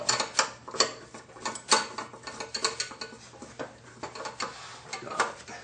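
Valve cover bolts coming off a Chevy S-10 engine, with repeated close metallic ratcheting clicks in uneven bursts and light clanks of tools against metal throughout.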